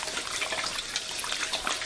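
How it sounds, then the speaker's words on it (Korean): Water poured into a container to make a salt brine for young radish kimchi, a steady close splashing rush running without a break, with no talk. "물 3리터 부어주고요"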